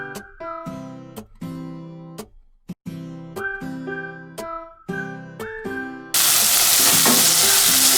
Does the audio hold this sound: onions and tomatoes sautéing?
yes